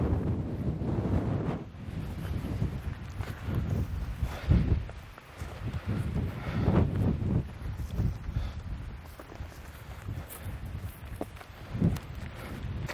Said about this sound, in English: especially when the wind's blowing